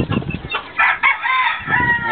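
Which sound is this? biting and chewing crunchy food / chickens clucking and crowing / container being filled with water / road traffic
chickens clucking and crowing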